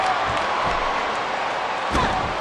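A wrestler's elbow drop lands on the mat at a BYU Surge wrestling show, a loud thud near the end of the clip over continuous crowd noise and arena ambience.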